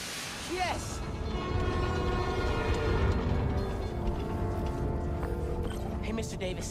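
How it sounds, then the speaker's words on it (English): A subway train in Spider-Man: Miles Morales, a New York game setting, powering up with a rising electric whine and a horn-like tone, then a loud sustained rail rumble with tonal hum, mixed with game sounds. "Okay, I can use that to power the trains."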